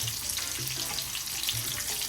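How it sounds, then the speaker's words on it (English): Cuban ham croquettes fry in hot oil, giving a steady, faint, hissing sizzle with light crackles that holds without pause and without voices. "they are hot and mostly covered by the oil, so just turn them a little bit in order to get them fully golden brown"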